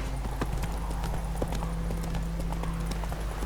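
Roach the horse galloping in The Witcher 3, hooves clip-clopping in a quick steady rhythm over a low rumbling game ambience, close and fairly loud with no talking.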